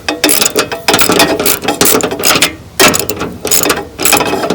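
Rapid ratcheting clicks in loud bursts as a wrench loosens bolts on the deck of an MTD 638RL riding lawn mower, with brief pauses between runs, close up and without talk.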